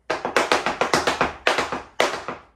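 Rapid tap dance steps strike a portable wooden dance board, a quick run of sharp, bright taps in uneven bursts with brief pauses, close and fairly loud.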